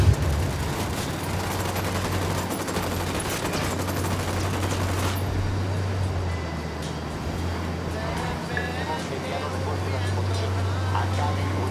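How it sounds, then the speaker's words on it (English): Automatic gunfire from a firefight in Ghost Recon Wildlands against cartel forces, a steady dense crackle of shots running the whole stretch over a low engine-like hum, with a voice speaking over it. "I'm opening fire"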